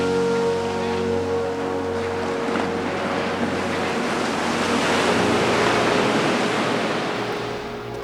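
Loud, continuous roar of ocean surf breaking on a Pacific beach at Third Beach, a broad wash of noise that swells and recedes slightly over several seconds, heard alone with no talking.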